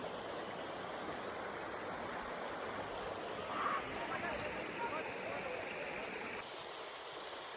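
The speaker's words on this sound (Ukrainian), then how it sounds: "Тут неймовірно гарно, неймовірно шумить гірська річка." A rushing mountain river near a small footbridge, a loud, steady broadband roar that stays even throughout with no breaks.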